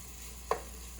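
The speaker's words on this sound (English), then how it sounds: "So I got the garlic stirred in" Garlic sizzles softly in a soup pot with a steady low hiss, broken by two short scraping knocks of stirring about half a second apart.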